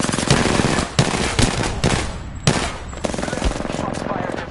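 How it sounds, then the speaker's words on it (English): Enemy gunfire in a PS4 shooter game, loud and close: rapid automatic bursts and single shots crack in irregular clusters over a dense, continuous battle din, with occasional heavier thumps. "The enemies are shooting at me."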